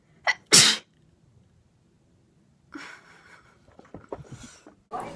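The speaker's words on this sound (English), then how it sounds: "You do sneeze every time" One person sneezes sharply, a quick intake followed by a loud burst, then a pause before people talk and laugh close by.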